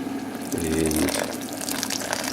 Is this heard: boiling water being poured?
yes